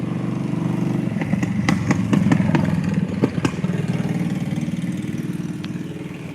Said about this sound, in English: Look at the motorcycle.